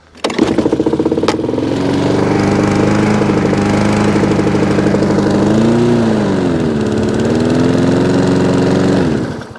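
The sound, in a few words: lawn mower engine running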